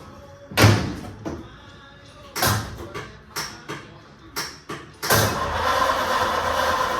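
A 1932 Ford in a workshop: several sharp, heavy door thumps and clunks come in sequence, then an engine catches and settles into a steady close running rumble.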